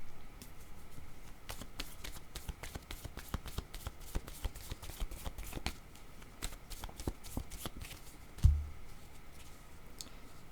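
A deck of cards being shuffled by hand at close range, with a steady run of quick riffling clicks and one heavier thump near the end, quiet and without talk.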